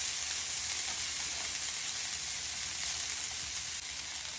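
Cooked rice frying in a pan for veggie fried rice, a steady close broadband sizzle that holds evenly for several seconds with no talking.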